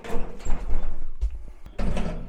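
Elevator doors sliding open in an office building: a low mechanical rumble and rolling glide, close, with a short clunk midway and a second surge of motion near the end.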